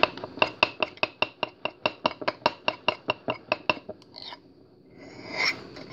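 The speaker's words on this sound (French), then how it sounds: "Et maintenant, il faut mélanger." Steady, evenly spaced clinks of a spoon stirring mug cake batter in a mug, about twenty quick taps close up, followed by softer scraping and a brief rustle.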